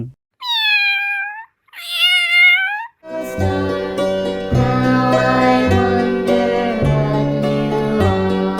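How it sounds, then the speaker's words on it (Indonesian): A cat gives two clear, drawn-out meows close by, followed by a stretch of music. "Kucing."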